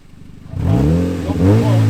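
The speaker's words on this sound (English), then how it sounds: "Rev it right up. Keep the revs on." A Mazda MX-5 drift car's engine is revved up for a burnout, the tone climbing after a quiet start and holding high, steady revs close by, with a voice partly over it.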